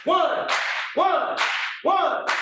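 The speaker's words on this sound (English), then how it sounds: "That's just a simple clap," An African unity clap done as single claps: a voice calls out a count each time, and one sharp, loud hand clap answers it, repeated three times at a steady pace.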